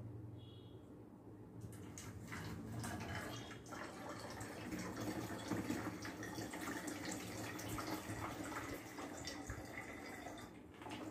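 Water is poured into a plastic bottle pierced with holes so it streams out in all directions, a soft continuous splashing and trickling, fairly faint and steady, with no voices.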